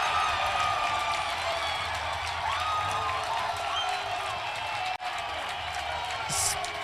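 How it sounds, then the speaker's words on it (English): Crowd noise at a championship event rises steadily as a broad, roaring wash of cheering voices, sustained for the whole stretch with scattered whoops and a brief dip near the end. "The crowd is absolutely ecstatic."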